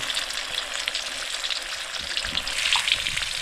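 Pieces of barracuda fish fry in a pan with a steady, close, crackling sizzle that holds evenly throughout and briefly intensifies near the end, with no talking.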